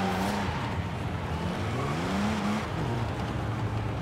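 A Toyota 2000GT in Forza Horizon 4 with its stock engine, which drones and shifts pitch while scattered exhaust pops crackle over the steady motor noise.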